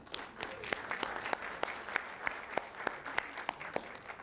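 Audience at a county board meeting gives a round of applause for a birthday recipient, quiet and distant, with scattered individual claps standing out over a soft crowd bed.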